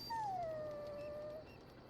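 A dog in the video game Dragon Age Origins gives a single drawn-out whimpering whine that starts high and slides down, then holds steady before cutting off, over quiet background ambience.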